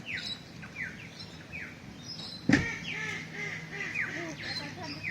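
Ducks quack repeatedly at a lakeside campsite on Lake Tinaroo in the Atherton Tableland, Queensland, in a series of nasal calls at moderate distance, with one sharp, loud thump near the middle.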